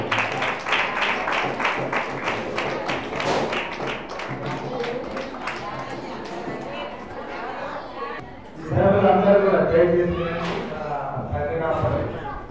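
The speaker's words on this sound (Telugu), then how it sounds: "చప్పట్లు పెట్టాం గట్టిగా" A church congregation at a harvest festival claps together in fast, even bursts, with a voice calling out over the applause; after a short pause the clapping and crowd noise swell again, louder and more mixed with chatter.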